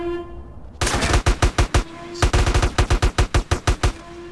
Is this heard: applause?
no